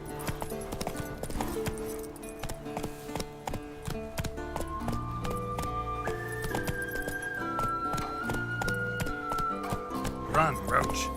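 Roach, the horse in The Witcher 3, gallops with a steady clip-clop of hooves under an orchestral score, while a voice shouts over the hoofbeats.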